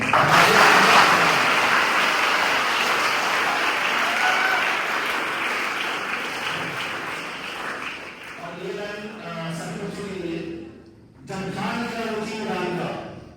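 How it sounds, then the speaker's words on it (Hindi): Loud, sustained applause from a school audience for students at a victory ceremony, a thick roar of clapping that slowly fades while a voice begins speaking over the thinning claps near the end. "एक बार मैं चाहूंगा कि बहुत जोरदार तालियां हो हमारे सभी बेहतर बच्चों के जिन्होंने प्रदर्शन किया है।"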